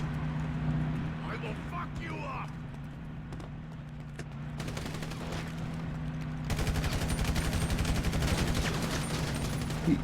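Video game gunfire arrives as quick bursts of automatic shots that become dense and continuous in the second half, running under players talking over voice chat.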